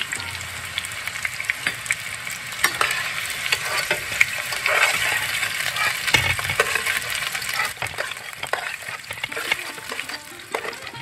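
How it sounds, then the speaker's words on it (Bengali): Bori, small lentil dumplings, fry in hot oil in a pan, giving a steady crackling sizzle with scattered sharp pops and occasional stirring clinks throughout, close and fairly quiet. "এখন আমি বড়িটা ভেজে নেব"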